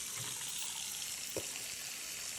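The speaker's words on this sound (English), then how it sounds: "The water's draining." Water running and draining from a newly installed sink with a new faucet, a steady broadband rush heard up close with one small clunk midway and no voices.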